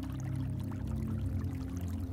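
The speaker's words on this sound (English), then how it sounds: "The sound of thundering falling water causes the earth to gently vibrate." Steady, continuous rush of shallow stream water and a nearby waterfall, with a low rumbling undertone and no breaks or voices.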